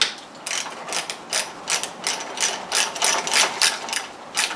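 A ratchet wrench backs out 10mm bolts on the thermostat housing of a Yamaha outboard motor, making a rapid, close run of clicking pawl bursts in an uneven rhythm with no talk.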